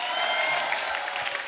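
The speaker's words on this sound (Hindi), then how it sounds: "जोरदार ताली हो जाए।" Studio audience applause on a Hindi comedy talk show, a brief steady burst of clapping at moderate loudness with some crowd noise.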